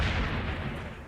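Cannon fire in a Medieval Total War late-game battle: a dense, rumbling boom that fills the whole short moment, heavy and low, loud and close, without talk.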